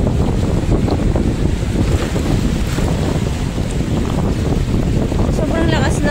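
Heavy surf roars continuously against rocks on the Calatagan shore, loud and close, with strong wind buffeting the microphone throughout.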